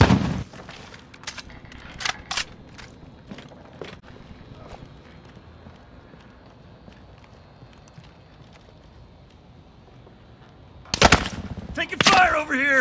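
Call of Duty Warzone gunfire: scattered sharp shots early, a quieter stretch, then loud, rapid bursts near the end, with game chatter underneath.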